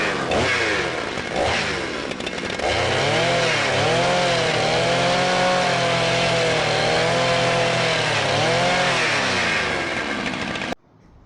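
Drill spinning a 3M restoration sanding disc against a plastic headlight lens: a loud, continuous motor whine with gritty abrasive hiss, pitch sagging and rising as pressure changes, close up, before stopping abruptly at the end.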